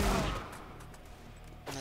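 A burst of gunfire in the video game CS:GO, a loud initial crack that trails into a rumbling decay and then a second shot near the end.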